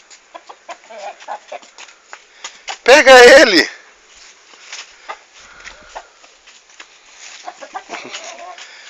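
A rooster on a farm in Ceará clucks and squawks loudly up close during a short flurry, amid footsteps and scattered clucks, while someone speaks briefly nearby.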